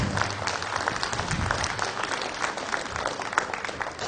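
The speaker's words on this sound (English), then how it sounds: "give these guys a round of applause" Spectators at a 2012 cattle show give a sustained round of applause, a thick, even wash of many hands clapping at once that carries at a steady level from start to finish.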